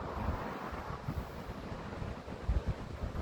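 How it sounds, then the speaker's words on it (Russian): Strong wind blowing by the sea in Mersin, Turkey, as a continuous rough roar with gusting surges and low buffeting on the microphone, no voices. "Боже, какой сегодня ветер."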